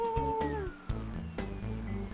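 A voice makes a drawn-out, cat-like meowing whine, imitating a cat, loud and close over a steady musical score.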